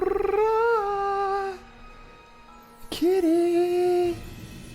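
A cat meows twice in the Cthulhu adventure game Gibbous, a long drawn-out mew followed by a short pause, then a sharp click and a second rising, wavering meow, both loud and close with no talking.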